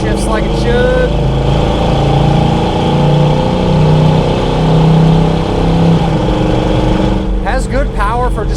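A 1978 Chevrolet Blazer 4x4 with a stock 350 V8 and automatic transmission accelerates with a strong, continuous engine roar. Its tone rises and dips as it downshifts during a test drive.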